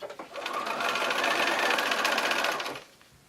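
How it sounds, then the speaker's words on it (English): A sewing machine stitches fabric strips for a string quilt in one short, rapid whirring run of about two and a half seconds that starts and stops cleanly, close by, with no talking. "And I'll begin sewing."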